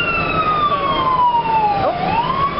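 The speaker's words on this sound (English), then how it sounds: "Ambulance. Okay, fire department." An ambulance or fire engine siren wails on a New York City street, loud and close, with its long falling sweep dipping and then rising again over traffic rumble.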